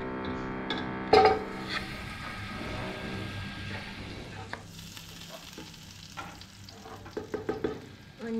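Onion fries in butter in a pan for a traditional Lebanese holiday dish, a continuous sizzle with scraping, clattering stirs throughout and a sharp knock early on.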